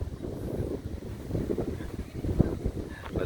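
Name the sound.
strong wind at the beach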